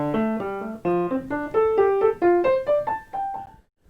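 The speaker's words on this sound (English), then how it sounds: "Without the pedal, it sounds like this." Piano playing a short ascending exercise of staggered notes without the sustain pedal, so each note is clipped and separate; close and clear, with a brief silence at the end.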